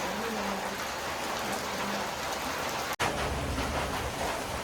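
Heavy rain pours steadily in a dense, constant hiss, with a brief dropout near the middle.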